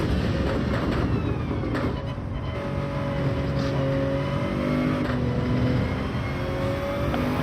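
Race car engine in Gran Turismo 7 revving and accelerating through the gears on a daily race, a steady loud whine with rising harmonic sweeps and no talking.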